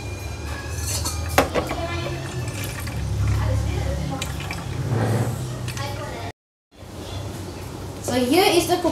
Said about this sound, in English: pour whatever is rest of the milk into a strainer